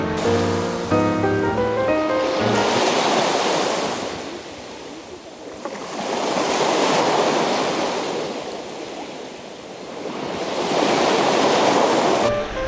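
Black Sea waves at Nesebar, Bulgaria roll in and break on the shore in three slow surges, each swelling to a loud rushing wash before fading, with steady wind noise underneath.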